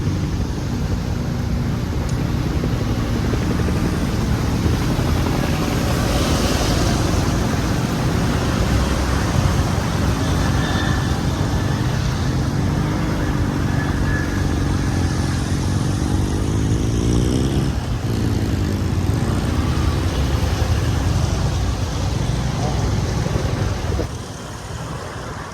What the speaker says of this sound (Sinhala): උඩින් ප්ලේන් එකක් යන එවලිනා